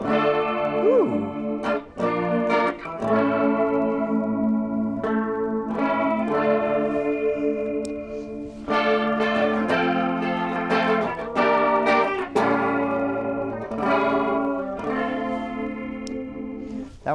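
Electric guitar with its tone toggle switch flipped up, played as a melodic line of clear, sustained notes with a slight effected shimmer and echo, moderately loud and close, with no talking over it.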